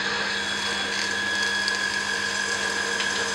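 A pressure testing rig running on a cracked Ford cylinder head in a workshop gives off a steady mechanical drone with a constant whine, even and unbroken throughout.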